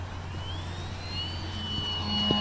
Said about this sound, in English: You can hear the prop kind of cavitate there a bit.